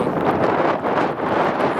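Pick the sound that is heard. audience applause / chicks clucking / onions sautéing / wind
wind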